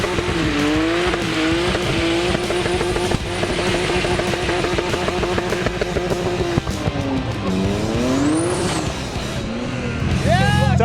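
BMW E30 with an S52 engine, transmission and large turbo, about 500 horsepower, drifting hard: a loud, continuous engine roar with wavering pitch and shrill tire squeal, swelling again near the end as the tires give out.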